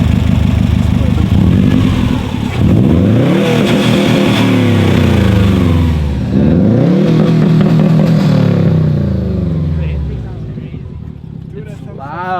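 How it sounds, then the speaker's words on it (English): A 2018 Subaru STI fitted with a short ram intake revs hard several times in a row, loud and close, the engine note climbing and dropping with intake rush as the throttle closes, and voices may sit under it. "You can actually hear his intake when he lets off the throttle."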